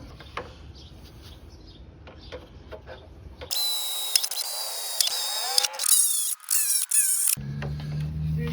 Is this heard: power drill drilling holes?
yes